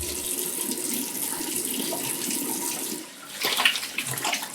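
Tap water runs steadily into a sink while a Merkur 34c safety razor is rinsed, the flow briefly dipping before splashing more brightly as the blade passes under it.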